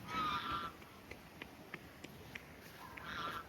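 Ducks at a resort give harsh calls when someone steps close, two loud bursts of quacking at the start and end with quieter footsteps crunching between them outdoors.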